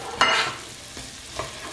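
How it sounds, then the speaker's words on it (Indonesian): Onions and garlic frying in a pan while being stirred, one strong scraping sizzle burst near the start followed by two fainter stirring strokes, close and clear with no talk. "Kita aduk sampai bawang putihnya layu."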